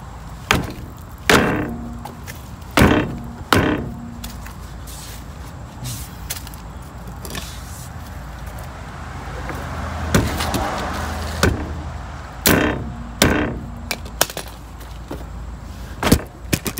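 Repeated hard kicks against a rear wheel of a 2011 Kia Soul to loosen it, sharp thuds coming in irregular bursts with quieter pauses between, close by.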